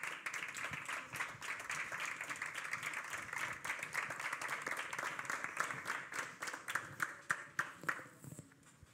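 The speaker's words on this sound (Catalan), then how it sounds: "un aplaudiment pel Pere Martínez i pel Marc López" Audience applause for Pere Martínez and Marc López at a live music talk event, a steady dense patter of many hands clapping throughout, moderately distant, with a few sharper individual claps near the end.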